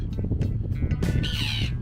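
Seagulls calling over a rocky beach in Estonia, a few harsh squawking cries up close, the last one long and strained, over a low rumble of wind or surf.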